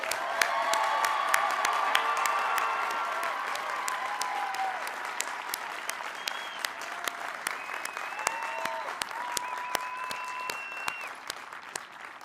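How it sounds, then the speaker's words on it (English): A crowd claps steadily for new graduates at Westminster College's 147th graduate school commencement ceremony, a dense, sustained wave of applause that carries for about twelve seconds before easing slightly. "Please join me in a round of applause for these new graduates."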